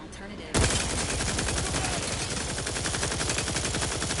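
Turret gunfire in The Outer Worlds 2 bursts in abruptly and hammers on as a loud, rapid, continuous stream of shots, close and relentless for several seconds.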